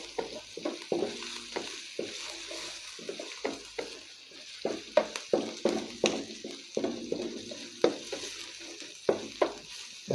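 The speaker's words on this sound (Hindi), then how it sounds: "घी गर्म होने के बाद 3 से 4 चम्मच घी डालने के बाद हमने इसके अंदर लहसुन अदरक का पेस्ट डाल दिया" Garlic ginger paste fries in hot ghee with a soft continuous sizzle, broken by frequent irregular scraping stir strokes of a spoon against the pan, close and fairly quiet.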